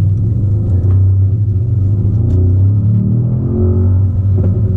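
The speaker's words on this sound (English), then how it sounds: "in the front of the engine a 4-liter V8 bi-turbo, and we of course going to hear the noise" A 2018 Mercedes-AMG S63 Coupe with a 4-liter bi-turbo V8 producing a loud, deep, steady engine rumble close up, the pitch wavering slightly as it revs, with no voices.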